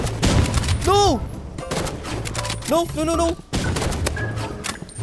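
Sniper rifle shots ring out in Roblox Rivals, several sharp cracks and thuds amid busy game effects and rising whistling tones, with a voice speaking briefly over the action.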